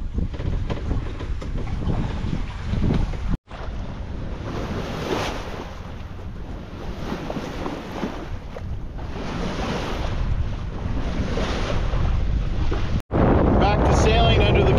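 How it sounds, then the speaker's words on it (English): A sailboat sailing solo off San Clemente Island, steered by Hydrovane wind-vane self-steering, with a steady close rush of wind and water along the hull, broken by two brief dropouts. "Back to sailing under the command of the trusty Hydrovane."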